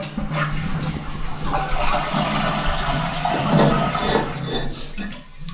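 A toilet in a housing unit flushing and then slowly refilling, a steady close rush of water that carries on throughout with a faint gurgle and no talk.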